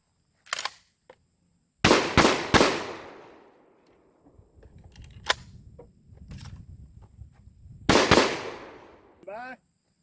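A shotgun fires sharp blasts during a timed skills test, a lone shot, then three quick shots in a row, a later single, and two more close together. Each report is loud and near, trailing off in echoes over faint background noise.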